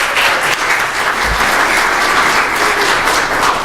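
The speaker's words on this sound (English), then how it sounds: "Let's give them a round of applause." A congregation gives a round of applause for young Daisy Scouts during a church service, steady close clapping from many people holding at an even level throughout.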